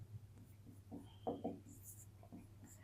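Pen writing on paper during a maths exercise: soft, close scratching strokes in short bursts against a quiet room hum.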